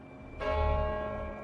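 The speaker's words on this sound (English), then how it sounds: "In London, the bells of St. Paul's rang out" Church bells of St Paul's Cathedral in London ring out, a rich harmonic peal swelling in partway through and sustaining loudly with lingering resonance.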